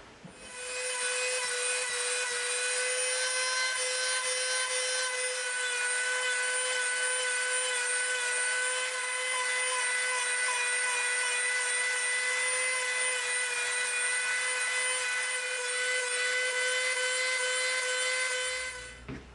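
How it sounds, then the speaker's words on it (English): Dremel rotary tool shaping the tapered blade of an EVA foam Destiny hunter knife, a high, steady whine held for nearly twenty seconds with a faint grinding rasp underneath, close and unbroken. "We Dremeled from our sideline up to our peak."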